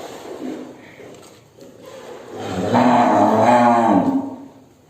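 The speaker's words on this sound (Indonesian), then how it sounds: "Ini gambaran saja mengenai hewan kurban bobot dari sapi-sapi pegon yang ada di depan saya ini." Pegon cattle in a sacrificial livestock pen; one loud, drawn-out moo rises close by after a few quieter shuffling sounds, then fades.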